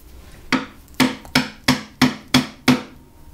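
A wooden mallet drives a premium Blue Spruce chisel into wood with seven sharp, evenly spaced strikes, close and loud, each thwack decaying quickly, with no talking.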